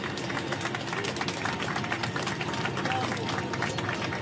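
Passengers aboard a KC-390 cargo plane clap as it touches down in Brazil: dense, steady applause that fills the cabin without pause, loud and close throughout.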